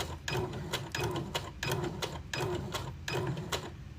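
A sewing machine back stitching, running in a quick steady rattle of needle strokes broken into regular short bursts, close and clear, with no talk over it.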